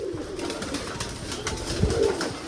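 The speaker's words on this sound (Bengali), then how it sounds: "এই যে এখানে আছে বাজির পায়রা" Tumbler pigeons cooing near a loft, soft low repeated coos fairly close against a steady background hum, with a brief louder flutter or call partway through.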